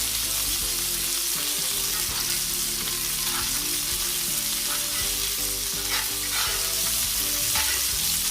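A rib eye steak fries in a pan with butter, garlic and rosemary, giving a loud, dense, continuous sizzle with light spatter and stirring. No one speaks.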